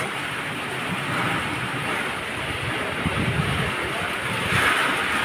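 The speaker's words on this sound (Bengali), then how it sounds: "বাইরে প্রচন্ড ঝড় বৃষ্টি শুরু হয়েছে" Heavy rain and a windstorm outside a home in the evening, a steady dense roar of downpour and gusts that stays constant throughout.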